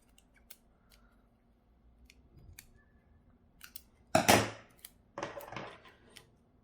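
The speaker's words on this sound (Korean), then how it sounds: "테이프를 뜯어서" Adhesive tape is torn off a roll at a desk while a macrame hanging is made, giving two short, sharp ripping bursts close by after quiet handling noises.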